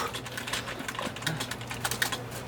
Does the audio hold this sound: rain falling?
no